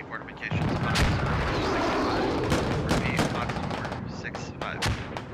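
Bombing run explosions in a Squad Ops video game match, heard as dense rolling blasts and crackling gunfire that rumble continuously, with sharper bangs scattered throughout and a voice faintly beneath.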